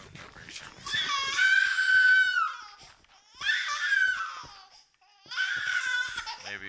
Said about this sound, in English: was just the baby screaming.